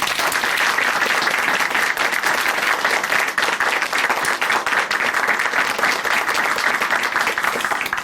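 A church audience at a Korean Christian TV testimony program gives sustained, loud, dense applause lasting throughout, thanking a brother who has just shared his testimony.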